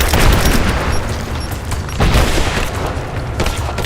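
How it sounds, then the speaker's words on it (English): Grenade blast amid gunfire in the video game Rise of the Tomb Raider: loud, dense booming and crackling shots fill the whole stretch, with a heavy thump near the start and another around the middle. "Throwing a grenade! Under fire!"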